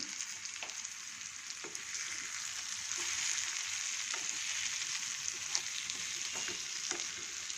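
Food fries steadily in a pan on a home stove during chutney and eggplant fry preparation, a constant close sizzle with occasional clicks of stirring.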